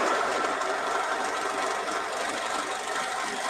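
A Bernina 570 Quilters Edition sewing machine runs a quilting stitch in a continuous, fast, even whir that stays close and loud from start to finish.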